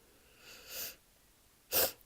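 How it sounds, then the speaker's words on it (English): Two short nasal sniffs from someone with a stuffed-up nose, a softer one followed by a sharper, louder one about a second later, close to the listener with no talking. "I apologise for sniffling,"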